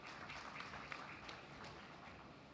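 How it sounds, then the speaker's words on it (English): Audience applause at a startup pitch event, a steady wash of many hands clapping at moderate level throughout, with a few sharper individual claps standing out. "A round of applause, ladies and gentlemen,"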